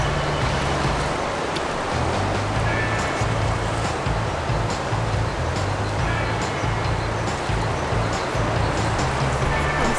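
A river flows beside a camper van stop in the countryside, a steady broad rushing wash that fills the background, with a low hum and faint voices mixed in.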